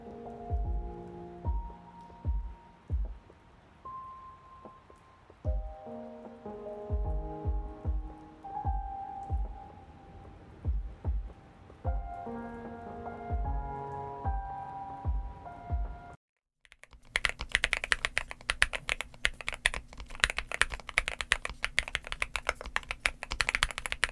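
Someone types on a NuPhy Gem80 tenkeyless custom mechanical keyboard, giving quick, clacky keystrokes in uneven bursts close by. A brief pause follows, then a much denser, faster run of typing.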